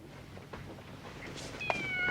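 A cat in a TV episode gives a brief meow near the end, rising out of low background noise.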